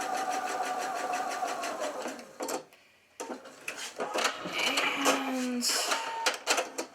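A sewing machine stitches teddy bear fabric in rapid, rhythmic bursts with a short back stitch. The motor whirs in stop-start runs close by, under a speaking voice and light handling noises.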